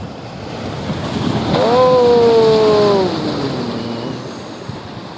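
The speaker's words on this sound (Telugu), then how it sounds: "సముద్రం కోపంతో వస్తుంది ఇక్కడికి." Sea waves roll and wash steadily onto Murudeswar beach in Karnataka with a broad surf roar, swelling midway while a brief tonal whine glides over the noise.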